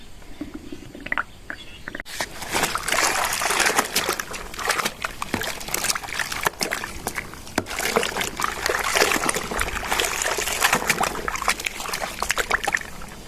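Laundry being rinsed by hand in a basin filled from a garden hose, with steady sloshing, splashing and trickling water close by for several seconds after a short quieter start.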